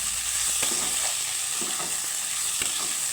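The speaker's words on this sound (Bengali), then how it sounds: "একটু আমি হালকা ভেজে নেব আলুর সাথে তারপর আর পেঁয়াজের সাথে" Potatoes and onions fry in a pan for a Bengali tangra fish chorchori, a steady close sizzle with occasional soft stirring scrapes and no voices.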